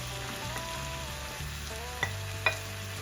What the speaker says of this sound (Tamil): இப்போ நான் தக்காளி பழத்தை போட்டு ஒரு கிளறிட்டேன்